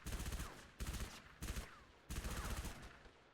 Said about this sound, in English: With a suppressed SMG